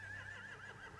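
A horse whinnies once in The Walking Dead Telltale video game, a clear, wavering neigh that sounds close and carries over faint background ambience.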